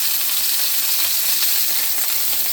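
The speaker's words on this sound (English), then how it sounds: "And there's that beautiful sear starting to happen." Pork tenderloin searing in a hot pan gives a steady, loud, bright sizzle that holds evenly from start to finish, with no voices.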